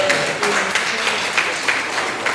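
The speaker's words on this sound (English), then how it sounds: "Somebody give him a clap" Guests at a wedding reception clapping, a steady wash of applause with a few louder claps, and a voice speaking faintly at the start.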